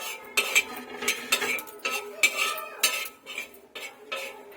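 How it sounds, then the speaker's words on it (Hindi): Fennel seeds dry-roasting in a pan while a utensil stirs them, giving repeated close scraping and clinking strokes in a steady rhythm with no talk. "इसको अच्छे से चलाते हुए भूंज लेना है।"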